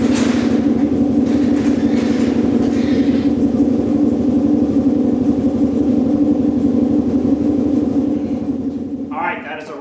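Tuned Gen 3 Can-Am Outlander XMR engine running steadily with a low, even drone as the ATV heads down the block, fading slightly at the end.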